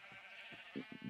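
Sheep in the Minecraft video game bleat in short repeated game-sound calls, several quick bleats clustered near the end, moderately faint and heard alone.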